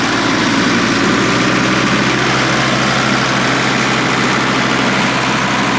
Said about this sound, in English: We're gonna go ahead and give it just a little bit more throttle.